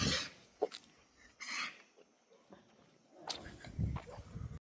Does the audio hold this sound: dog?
yes